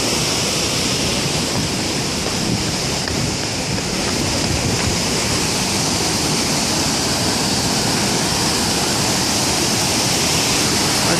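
Clean water rushing at an old horizontal-wheel grain mill, a loud, steady broadband roar like a small waterfall, continuous and close with no talking.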